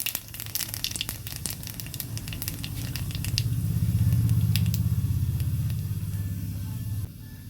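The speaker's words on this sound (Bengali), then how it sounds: "মাছ ভাজার কড়াইটার মধ্যে আরেকটু তেল দিয়ে দিচ্ছি কিছুটা কালো জিরা ফোড়ন।" Black cumin seeds temper in extra oil added to a wok used for frying pabda fish. Crackling pops come early, then fade under a steady low hum from the burner.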